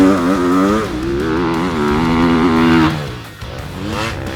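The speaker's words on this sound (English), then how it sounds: "Let's see what Tommy's race bike is made of" A race motorcycle at full pace on a track, its engine screaming loud and close with rising and falling revs through gear changes, then a brief dip before it winds up again.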